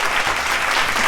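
Brief burst of dense audience applause, steady and fairly loud throughout, with no voices over it.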